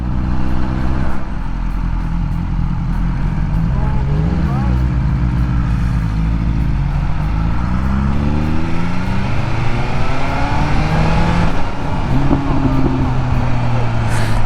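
A 2021 BMW S1000R motorcycle engine revs up and down through gear changes on a first ride, a loud continuous engine drone with rising and falling pitch, wind noise and a rider's voice over it.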